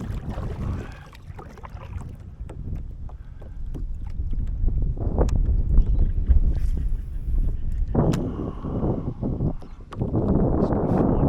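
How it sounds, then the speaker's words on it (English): Gusty wind buffets a fishing boat on open water, a loud, rough, low rumble rising and falling over several seconds and blowing directly into the microphone. "This wind is not saving my trip though."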